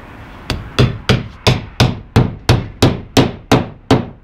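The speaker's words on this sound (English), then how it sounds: "nail it back onto the stud." A hammer drives a nail through plasterboard into a stud, striking about eleven evenly spaced, sharp blows in a steady rhythm, each with a short ringing decay. The blows are close and loud, with no talking.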